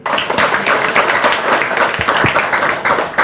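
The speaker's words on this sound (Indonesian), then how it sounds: "Tepuk tangan saya." Hands clap in a quick, fairly loud run of sharp claps that blends toward applause-like patter, with a few thumps mixed in.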